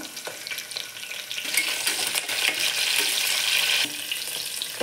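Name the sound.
cashews, green chilies and curry leaves frying in oil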